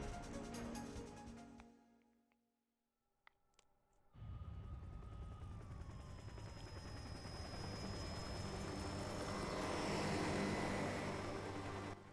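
Army gunships fly in the Parasite Eve video game, producing a steady, broad rotor and engine roar that fades briefly to near silence, then returns loud and sustained with a thin high whine running over it.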